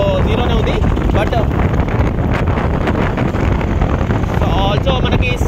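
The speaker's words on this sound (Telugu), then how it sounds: "బైక్ సౌండ్ ఇచ్చారనమాట దీనికి" An Aprilia SXR 160 scooter runs on the road, its engine drone buried under heavy, continuous wind rumble against the microphone while a rider talks.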